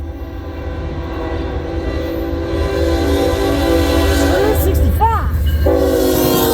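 A CN freight train, unit 2112 heading southbound at Ladysmith, Wisconsin, rumbles loudly past close by with wheel clatter, while a voice calls out and a horn sounds under the passing cars.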